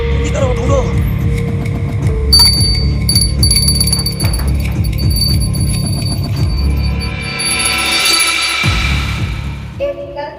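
A bell rings repeatedly under a thick, low rumbling background, with dense sound throughout and a brighter swell near the end.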